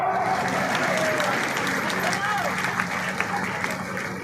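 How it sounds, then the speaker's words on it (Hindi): A crowd claps at a political rally in Guna with the chief minister on stage, steady sustained applause mixed with crowd babble running throughout. "अगर सही है तो ताली बजाओ।"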